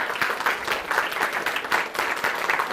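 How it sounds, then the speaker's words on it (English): An audience at a closing session gives itself a lively round of applause. The clapping is continuous and close, with a pulsing, uneven texture. "I think you should give yourselves a round of applause for all the hard work that you've done."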